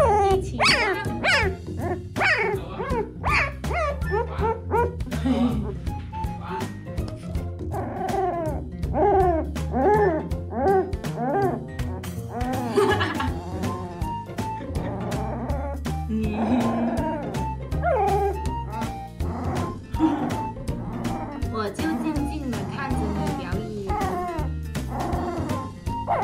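A fat little village puppy barks fiercely and nonstop, a rapid string of sharp yips and high barks close by, broken by brief whimpers and growls, loud throughout.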